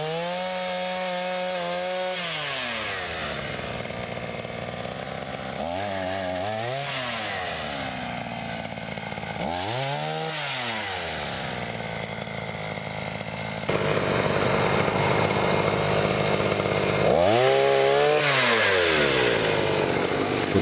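A GartenXL 5-in-1 trimmer with its pole saw attachment cuts through high tree branches. The motor drones steadily and close by for the whole stretch, and its pitch drops and sweeps each time the chain bites into the wood, several times in a row.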